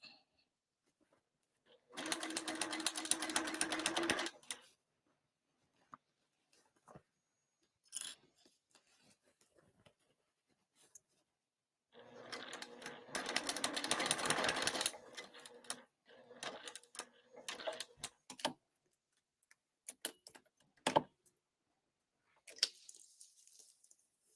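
Sewing machine stitching through a bag lining, two sustained runs of rapid mechanical stitching separated by quieter handling clicks and rustles, close and fairly loud.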